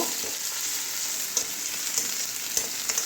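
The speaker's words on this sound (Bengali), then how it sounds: "রসুনটা কাঁচা গন্ধ যাওয়া পর্যন্ত ভেজে নেব।" Chopped garlic frying in hot oil alongside half-fried onion and chilies, with a dense steady sizzle close up and a few light stirring scrapes; no voices.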